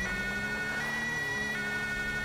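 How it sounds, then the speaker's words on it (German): A steady, high electronic police siren in Grand Theft Auto V wails without pause, a continuous tone with little rise and fall, moderately loud and close. "Ich glaube, ich soll wieder mal Blaulicht reinschalten und die Sirene."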